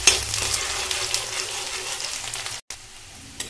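Onions frying in mustard oil in a pan, a steady close sizzle that holds evenly, breaks off briefly near the end, then resumes more quietly.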